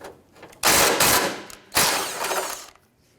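Two loud bursts of rapid ratcheting from an air or ratchet tool loosening a 10mm nut under the bumper of a 2009-2015 Honda Pilot, each burst lasting about a second, close and harsh.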